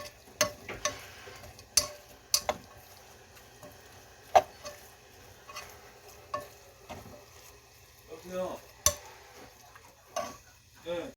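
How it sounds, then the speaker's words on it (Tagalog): Anchovies and kimchi being stir-fried in a pan over lowered heat, with spatula scrapes and clinks against the pan at irregular intervals over a quiet, soft sizzle. "So, ipuka natin siya. Ibig sabihin, stir fry, puka."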